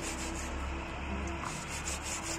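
A surface is scrubbed hard and continuously, a steady dense rubbing close by that keeps an even loudness throughout.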